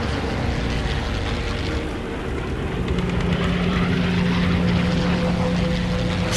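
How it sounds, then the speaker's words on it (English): Bombers drone overhead in the Call of Duty: World at War video game, a loud, continuous propeller-engine roar that holds steady and swells slightly, with no talking over it. "Before the bombers pass!"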